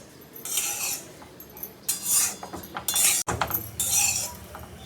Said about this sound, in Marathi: मग आता आपण हे भाजून घेऊया.